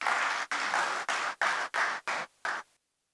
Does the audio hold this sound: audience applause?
yes